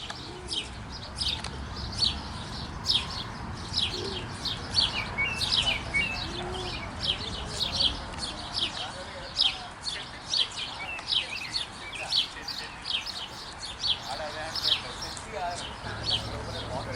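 Sparrows chirp and tweet in a continuous, busy chatter of short high calls, moderately close, layered over a low background hum.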